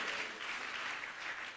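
Steady, dense applause from a worshipping congregation clapping with hands lifted at a Telugu prayer meeting, sustained and even in loudness with no clear voices.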